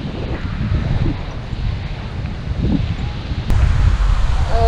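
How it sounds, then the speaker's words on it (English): A strong headwind blows across a sandy beach, buffeting the microphone with loud, gusty rumbling that rises sharply near the end. "Oh, it's a fight, and it's a headwind."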